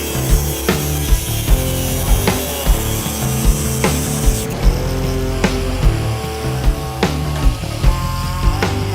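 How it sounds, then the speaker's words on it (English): A power tool cuts through metal chassis parts for a custom car in a garage, loud and close, with a busy grinding whine broken by repeated sharp knocks and bursts. "So I'm making all the cuts just a little bit short of where they should be."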